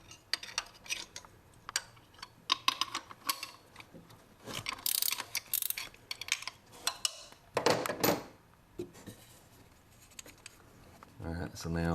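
A ratchet clicks in short bursts while loosening a 13mm bolt on a 2003 Neon timing belt tensioner, mixed with metallic tool clanks and handling noises, close by and intermittent.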